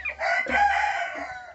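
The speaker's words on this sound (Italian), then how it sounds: "Lì poverina abbiamo la gallina storta." A hen clucks in a chicken coop freshly disinfested with hydrated lime, giving one loud, drawn-out throaty call close by, with no talking.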